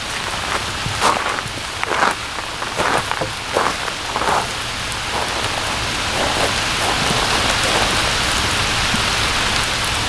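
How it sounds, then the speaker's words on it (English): Heavy rain pouring steadily at a remote hilltop church site, with sharper bursts of drops early on, then a dense, unbroken downpour close by. "The rain's too much."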